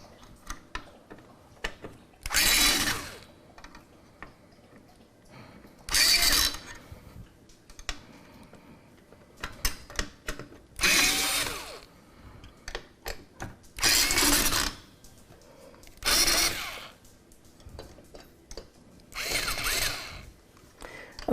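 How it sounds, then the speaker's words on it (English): An electric screwdriver buzzes in six separate bursts, each lasting about a second, as it removes CPU cooler screws inside a PC. Quieter clicks and handling noises fill the gaps between the whirs. "An electric screwdriver is not the best tool for this purpose, but I'm trying to be quick."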